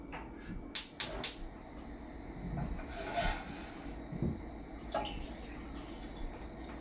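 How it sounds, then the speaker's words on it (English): Two cups of water splash onto beef in a cooking pot after a few sharp clatters, the soft rushing pour continuing faintly with small knocks. "we're gonna put the water with the beef, 2 cups of water"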